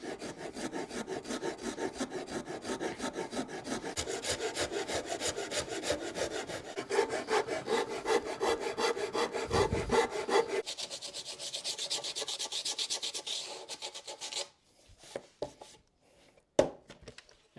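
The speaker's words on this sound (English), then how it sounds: "a big rasp" Big wood rasp shaping the body of a cheap homemade guitar, a continuous rhythmic rough scraping, close and steady for about fourteen seconds before breaking into a few isolated strokes.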